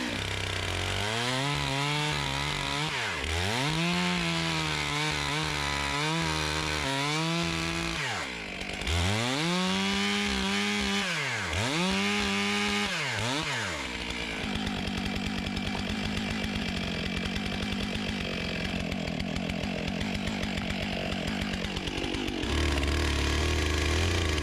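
A chainsaw cuts a round of roadside firewood, loud and close, its engine rising and falling through several bursts before settling into a steady, rough cut with no talking.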